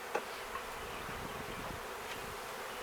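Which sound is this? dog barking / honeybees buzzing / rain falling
honeybees buzzing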